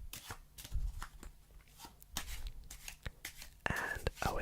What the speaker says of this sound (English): I am about to give the deck a bit of a shuffle and a mix.